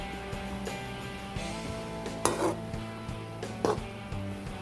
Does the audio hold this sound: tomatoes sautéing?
yes